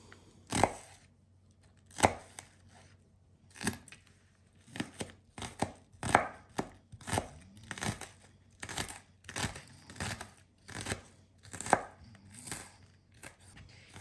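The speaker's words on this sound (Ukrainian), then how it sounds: "Цибульку нарізаю також міленько кубиком." A knife finely dices onion on a cutting board, sharp close strikes in an uneven rhythm, with brief pauses between runs of cuts.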